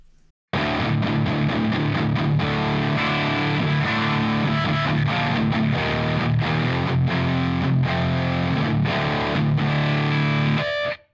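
An electric guitar plays through a heavy distortion effect with boosted mids, a loud, dense run of chugging chords lasting about ten seconds before it cuts off abruptly.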